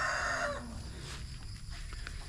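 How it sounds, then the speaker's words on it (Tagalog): A rooster crows briefly at the start, then quieter clucking and farmyard noise continue in the background. "Yan, daming manok dito."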